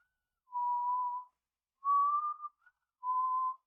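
A person whistles Zelda's Lullaby from The Legend of Zelda in three clean, sustained phrases with short pauses between them, close and alone in a quiet room.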